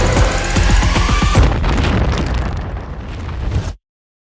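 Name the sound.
explosion in film teaser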